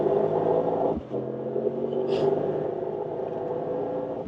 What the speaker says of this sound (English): Hard on the gas, so that was really, really quick already.